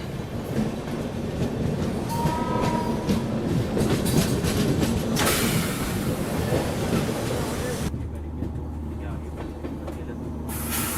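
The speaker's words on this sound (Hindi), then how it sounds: "जिस तरह से ट्रेन यहाँ पे लूप हो रही है ना, ऐसा लग रहा है कि ट्रेन यहाँ पे रुकने वाली है" Heard from on board the Tamil Nadu Express on its Chennai to Delhi run, the train rolls along the rails with a loud, continuous rumble and rhythmic clickety-clack of the wheels, shifting to a deeper, muffled roar near the end.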